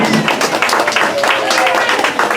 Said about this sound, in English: How about a great big round of applause for the Tweetsie Marshals?